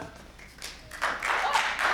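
Scattered clapping from an improv show audience swells over two seconds, starting with a few claps and building into denser applause, moderately close.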